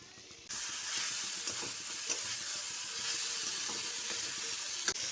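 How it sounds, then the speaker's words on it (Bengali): Banana flower (mocha) stir-fried with spices for a chana dal dish, a steady close sizzle that starts abruptly and continues evenly, with occasional scraping taps of a spatula against the pan. "মোচাটা দিয়েও একটুখানি কষিয়ে নেব।"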